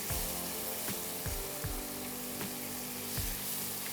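Chicken pieces with mustard paste and green mango sautéing in a pan for a Bengali curry, giving a steady broadband sizzle with several soft low thuds of stirring, close and alone with no talking.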